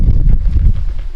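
Outdoor wind during a physical education lesson, heard as a loud, low, steady roar of gusts buffeting the microphone for about a second, with no speech.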